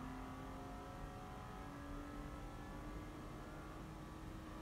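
A car engine in Need for Speed Payback revs while driving, a dense, continuous drone with a steady pitch at constant loudness.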